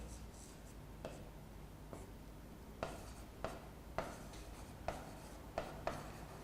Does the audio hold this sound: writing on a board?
yes